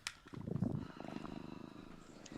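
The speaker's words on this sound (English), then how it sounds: "He just came near me and he was purring" A cat purring close by, a soft, rhythmic rumbling pulse that continues steadily throughout, faint and intimate.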